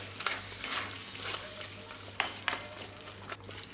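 Soft, constant sizzle and bubbling of beef pickle in a hot pan, broken by occasional sharp pops and spits.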